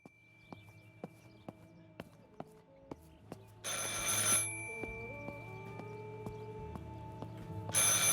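An old telephone rings in the video game Martha is Dead, a regular series of bell rings repeating about twice a second, close and clear, with a burst of static noise partway through and again at the end.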